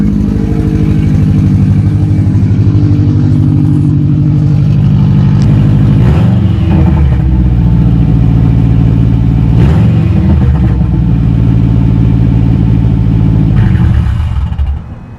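A car engine cold start rumbles loudly and steadily at close range after a Cobb Stage 2 install, rising in two revs partway through before settling back to a rough idle.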